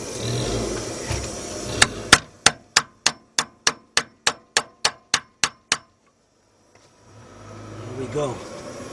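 A hammer striking a tie rod clip on a 2002 Ford Explorer during front inner tie rod replacement, about a dozen sharp metallic blows in a quick, even rhythm, followed by a brief silence and workshop noise.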